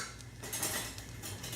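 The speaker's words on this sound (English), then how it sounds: "Let me get a spoon." A spoon is picked up from among kitchen utensils, giving close metallic clinks and rattles of cutlery and dishes over a low background hum.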